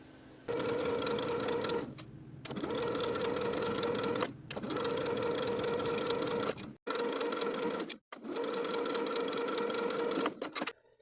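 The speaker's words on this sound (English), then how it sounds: "we're going to sew around the neckline to attach the bias tape with a 3/8 inch seam allowance" A sewing machine stitches bias tape around a neckline in four long, steady whirring runs, each broken by short pauses. The sound is close and fairly quiet, with brief clicks between the bursts.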